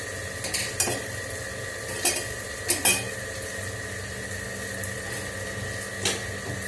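Okra stir-fries in a pan with a constant low sizzle under a background hum, and a few sharp spatula scrapes and taps cut through at irregular moments.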